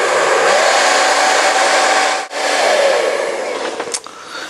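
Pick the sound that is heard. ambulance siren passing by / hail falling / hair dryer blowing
hair dryer blowing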